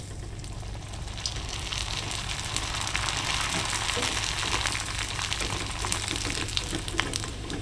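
Papad fries in oil with a dense, continuous crackling sizzle up close, steady throughout over a low hum.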